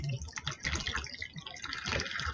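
Water is poured over a model house to imitate a storming rain, giving a close, uneven splashing and dribbling of liquid with a voice speaking over it.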